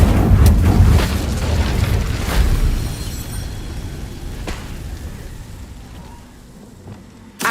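A fire spell blast in Hogwarts Legacy bursts as a loud, deep rumbling boom up front, then rolls and fades into a long low roar before a small sharp hit at the end.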